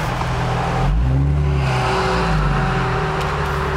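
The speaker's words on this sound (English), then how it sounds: "you really do notice the barking of the Berk test pipes" Loud, close exhaust of a 2009 Infiniti G37S with a 7-speed automatic, MXP exhaust and Berk test pipes, revving and rising in pitch under throttle with a raspy, barking drone throughout.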